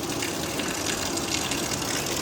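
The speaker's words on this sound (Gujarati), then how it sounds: "બહુ વરસાદ જો" Heavy rain pours down in a dense, continuous gushing rush of falling water, steady and close with no pauses.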